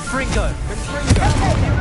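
Blasting Confringo spell explosions and other combat spell effects in the Hogwarts Legacy video game, a dense busy mix of bangs and whooshes with a sharper hit near the middle, under a voice calling out spell names.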